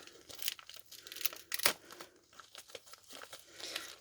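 Crinkly plastic packaging of a diamond painting kit being unwrapped by hand, with close, soft rustling and crackling that rises and falls, plus one sharper crunch, and no talking.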